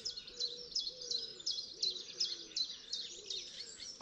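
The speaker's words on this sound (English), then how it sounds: "Being dawn, all the birds are up." Several birds sing and chirp at dawn beside a misty lake, a bright, busy chorus of overlapping phrases, fairly faint and open with no talking.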